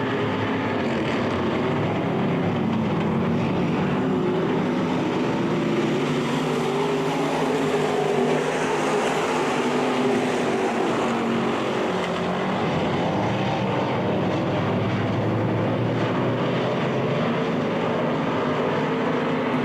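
Street stock race cars roar down the back straightaway at I-96 Speedway in single file, a steady, dense engine drone that holds at a fairly even level throughout.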